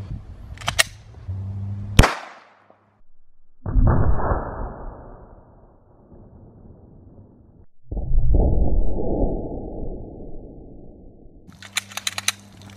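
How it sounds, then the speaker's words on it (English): A Glock 19 pistol firing 9mm full metal jacket rounds, two loud sharp shots close by, each followed by a long ringing tail, with faint handling clicks at the start and end. "All right, let's shoot them. I'm using my Glock 19 today"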